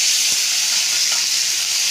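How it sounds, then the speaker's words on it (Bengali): Marinated chicken hitting hot oil in a wok, sending up a loud, steady, bright sizzle with faint stirring knocks underneath. "ম্যারিনেশন করা চিকেনটা দিয়ে দিয়েছি, এবার এটাকে ভেজে নেব।"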